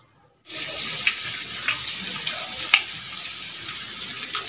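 Water running steadily from a tap into a sink in a home kitchen during momo preparation, a continuous broadband rush after a brief silent start, with a few small splash peaks and no speech.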